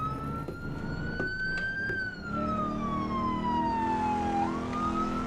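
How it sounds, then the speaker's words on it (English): A police car's electronic siren wails close by, its tone sliding up and then slowly down, then dropping and rising again, loud and steady over the low rumble of the moving car. "Especially that I have a siren."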